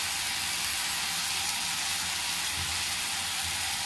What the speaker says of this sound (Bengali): এটা এরকম ভাজা হয়ে গেছে।